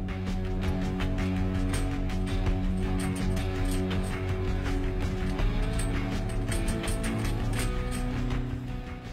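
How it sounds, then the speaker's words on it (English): Wrench ratcheting nuts off a heavy barricade cover for a pipe chase, a steady run of clicking and mechanical creaking that is close and continuous with no talk. "I take all four of the nuts off."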